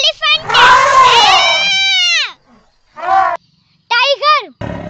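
A voice imitates an elephant with a long, loud, wavering trumpet-like cry, followed by a couple of shorter separate vocal bursts after brief pauses.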